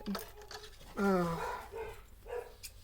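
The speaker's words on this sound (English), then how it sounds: "Dog's in the house freaking out because of delivery." A boxer dog barks inside a house, set off by a delivery, giving a few sharp, loud barks with a brief yip, heard indoors at moderate distance over faint background noise.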